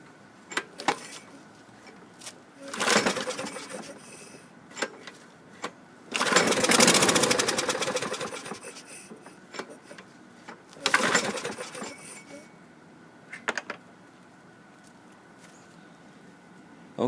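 A worn 2011 John Deere JS28 push lawn mower engine, started with nitro, sputters through several short bursts of firing and revving separated by quiet pauses, with brief clicks and rattles between.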